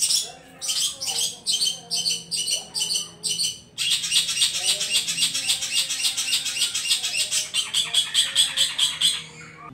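A caged cendet (long-tailed shrike) chirps in rapid, repeated bursts, loud and close, with a steady rhythmic chattering that runs almost continuously after a brief pause.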